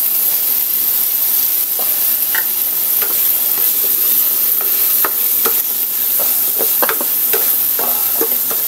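Shrimp, string beans, sponge gourd and tomato stir-fry in a pan: a loud, continuous sizzling hiss broken by scattered clinks and scrapes of the stirring utensil.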